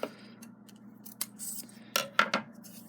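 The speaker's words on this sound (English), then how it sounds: "For me, in this jar, I need to cut the straw about in half." A few crisp scissor snips cut a drinking straw in half so it fits inside a jar for a DIY bee hotel, the sharp clicks landing singly and then in a quick pair near the end, close and fairly quiet.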